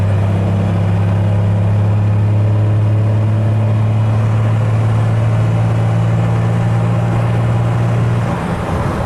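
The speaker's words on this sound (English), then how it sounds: "you can hear how strained the engine seems" A first-generation Cummins diesel pickup engine drones steadily with a strong low hum, sounding strained as it builds slightly while accelerating to about 75-80 mph, then easing off near the end; continuous road noise throughout.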